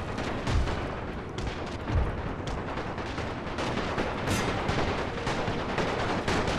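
Dense, continuous gunfire rattles through a World War I battle in the strategy game The Great War, set in Romania, with several heavier booming shots standing out from the steady volley.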